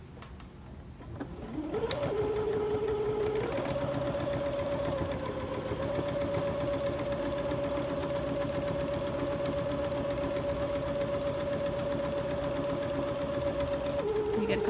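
A sewing machine backstitches the seam of a zipper pouch, starting up after a short pause and then running in a steady fast whirr for over ten seconds, close and clear with no talking.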